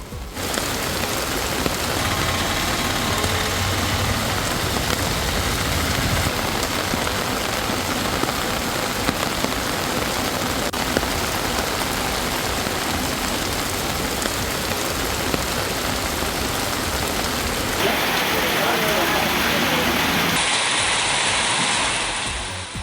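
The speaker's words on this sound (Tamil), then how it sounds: "சிவகங்கையில் பெய்த கனமழையால் பேருந்து நிலையம் வெள்ளக்காடாக மாறியது" Heavy rain pours down steadily over a bus station in Sivaganga, Tamil Nadu, flooding it: a dense, continuous roar of falling water and splashing runoff that stays loud throughout with no voices.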